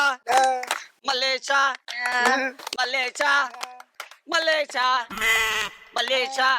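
A man imitates a sheep with his voice, giving a rapid run of loud, wavering bleats, about a dozen in quick succession with brief gaps and a noisy burst near the end.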